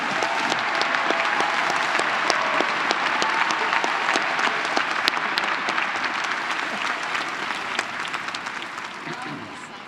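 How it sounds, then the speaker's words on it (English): A large crowd at a university spring commencement ceremony applauds the master's and specialist degree graduates with sustained, even clapping, sharp individual claps popping out of the steady roar before it eases off slightly at the end. "Please give a round of applause to the master's and specialist degree graduates."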